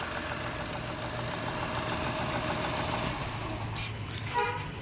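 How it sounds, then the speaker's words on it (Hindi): A car engine runs steadily with a constant rumbling drone, loud and close, its tone shifting slightly near the end. "चलिए मैं कार बंद करता हूँ, शोर काफ़ी ज़्यादा हो रहा है"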